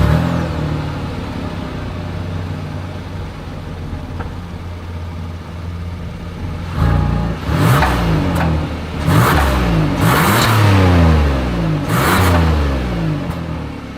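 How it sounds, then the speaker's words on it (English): A Hyundai Palisade SUV exhaust idles low, then revs up several times in quick bursts, each rise and fall clearly audible, close and fairly loud. "As always, here is that exhaust clip."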